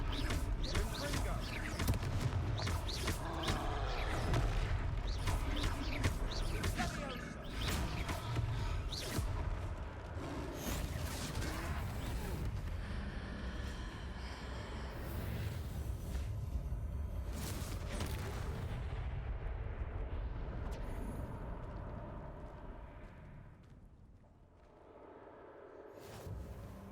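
Confringo blasting spells explode during a troll fight in Hogwarts Legacy, dense bursts of booms and crackling impacts layered over game music and voices, fading toward the end.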